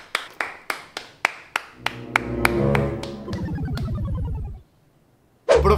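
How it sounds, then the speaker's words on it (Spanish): Clapping in a classroom: a series of single sharp claps in a steady rhythm, then a sustained tonal sound with a falling pitch sweep, a short silence, and a sudden loud burst at the end. "Un aplauso."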